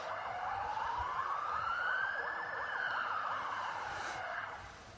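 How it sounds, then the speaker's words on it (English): An ambulance siren wails past outdoors near a lawn bowls green, rising and falling steadily for several seconds with a faint hi-lo warble, moderately distant and fading slightly at the end, no talking. "There's another ambulance comes past."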